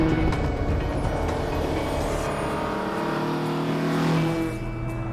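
A modified BMW 2002 engine with dual Weber carburetors and a five-speed gearbox pulls hard on a racing hill, a loud steady engine drone with shifting pitch, close and alone without talk.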